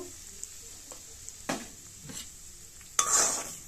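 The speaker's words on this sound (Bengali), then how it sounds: "যে ঘিটা ছিল তাতে আমি দিয়ে দিলাম সুজিগুলো ভাজা করে নেব" Semolina fries in leftover ghee in a pan, a soft steady sizzle broken by a few scraping stirs of a spoon against the metal, the loudest scrape near the end, with no talking.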